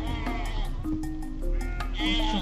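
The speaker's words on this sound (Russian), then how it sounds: "Вот впереди бараны, осторожно." Several sheep on the road ahead of a vehicle bleat repeatedly nearby, overlapping calls over a low engine rumble, with a voice talking briefly.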